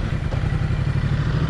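A Ducati motorcycle engine runs at a steady, rough mid-pitched drone during a U-turn on a short test ride, loud and close with no speech over it.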